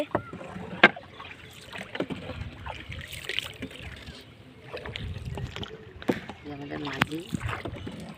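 Many wooden rowing boats on a lake, with faint oar strokes and water dripping and sloshing near the boat under light wind, while people talk on board.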